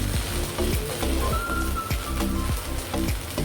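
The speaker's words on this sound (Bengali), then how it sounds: "যে সবগুলো সবজি মশলা আমি ভালোভাবে মিশিয়ে নিয়েছি।" Noodles tossed with vegetables and spices in a hot pan give a steady sizzle broken by repeated scraping stirs at an irregular rhythm, close and moderately quiet with no talking.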